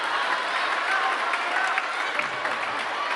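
Steady crowd applause and cheering fills a table tennis arena at a mixed team world cup match, a dense, continuous wash of clapping with no breaks.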